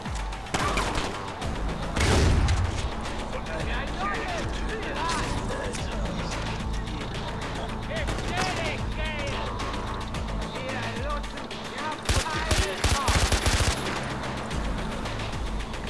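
Gunfire in the video game Far Cry 4, with shotgun-style blasts mixed into dense, loud, continuous shooting and crashes; voices talk over it throughout.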